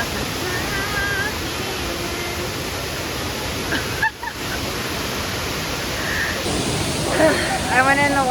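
A waterfall near Mt. Shasta roars as a steady, dense wash of rushing water close by, with a few faint voices and small splashes near the end.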